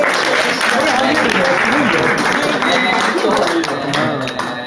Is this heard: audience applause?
yes